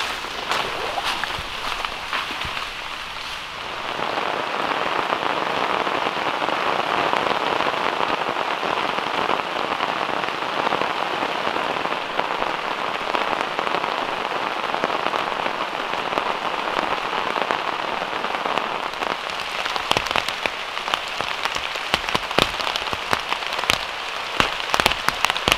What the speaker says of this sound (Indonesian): Ini udah mulai turun hujan.